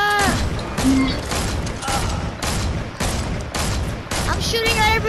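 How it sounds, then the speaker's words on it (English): Fortnite gunfire rattles in rapid bursts of repeated shots, loud and close, with a player's voice and other game sounds mixed in. "Shooting at everything!"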